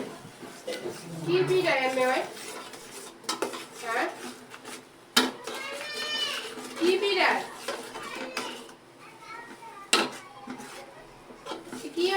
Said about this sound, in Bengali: তো এখন মশলাটা কষায় নেওয়া হবে।